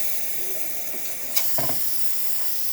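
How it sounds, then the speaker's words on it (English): Steady dry hiss from the steam wand of a La Pavoni manual lever espresso machine after a full service, with a brief sharper burst midway as the valve is held open. "Nice dry steam."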